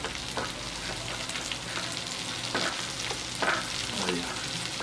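Feijão tropeiro with charque being stirred in a pan, a steady close sizzle of frying with scraping spoon strokes and soft clatters throughout, no voices.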